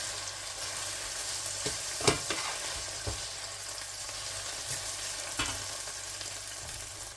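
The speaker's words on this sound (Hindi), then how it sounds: "हल्का सा इनको हम फ्राई करेंगे।" Onions and okra frying in a pan, a steady close sizzle with a few sharp utensil scrapes and clinks at irregular moments, no voices.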